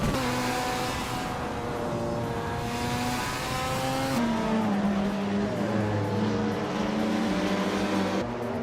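A 2017 Mazda RT24P race car engine in a racing video game, droning steadily at high revs with its pitch shifting up and down as it accelerates through gears.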